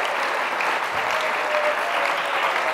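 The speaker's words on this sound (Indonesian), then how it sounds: "Sekali lagi tepuk tangan untuk Anda semua." A crowd applauds steadily, dense clapping with no pause for the whole stretch, fairly loud and even.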